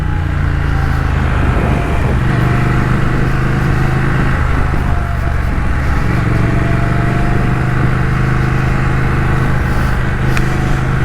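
A 2021 Triumph Thruxton RS motorcycle engine under riding with light engine braking, a loud, steady, close drone with heavy wind rush and no voices.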